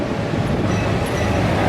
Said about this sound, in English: And look at these incredible trains.